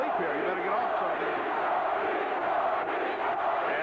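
A boxing crowd at a fight in Lake Tahoe chants the name of fighter Tony Lopez, a steady massed roar of voices filling the arena from a distance.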